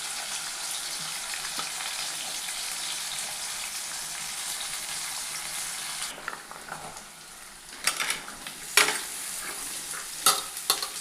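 Urad dal, green chilli, onion and curry leaves sputter in hot oil for a carrot, potato and broad bean stir-fry, a dense continuous sizzle that eases midway, with sharp spoon-against-pan clinks and stirring near the end.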